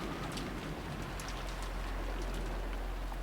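Freezing rain falls steadily at night in the visual novel game Umineko When They Cry, a dense, even hiss of drops on surfaces that holds without pause.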